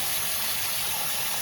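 Water gushes steadily into a container to thin a Simple Green degreaser, a loud continuous hissing rush close by with no other sounds.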